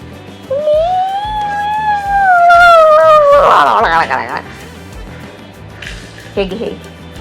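A puppy whimpers and howls in a rising, wavering cry that swells loud for a few seconds before fading, with someone talking over and around it in a home setting.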